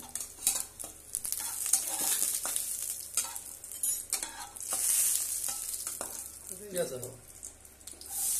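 Cumin and sliced onions fry in a pan, giving a steady close sizzle broken by repeated stirring scrapes and light clinks of a utensil against the metal.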